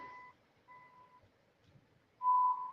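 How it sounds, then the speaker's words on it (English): Two steady electronic beeps, followed after a pause by a louder, longer warning tone, from an in-car radar detector alert warning of speeding, with faint road hum beneath. "That beeping is my radar"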